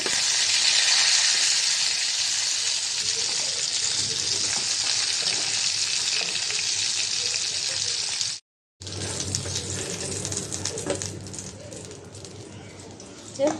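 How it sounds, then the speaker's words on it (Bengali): Tilapia pieces frying in a small wok produce a close, continuous sizzle with bubbling and spitting oil, interrupted once by a brief silence before carrying on slightly quieter. "ছোট কড়াইতে দিয়েছি মাছ অল্প অল্প করে ভেজে নেওয়া লাগবে"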